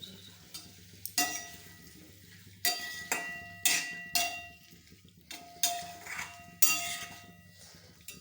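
A metal utensil scrapes and clanks against a pot while vegetables are mixed with spices, giving a series of sharp, close knocks and scrapes at an uneven rhythm with short pauses between.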